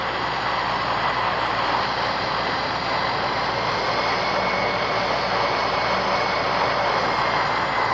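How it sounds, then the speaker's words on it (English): A C-400 military transport aircraft taxiing toward the runway, its engines producing a loud, steady, unbroken roar throughout with no voices. "As they taxied to the runway."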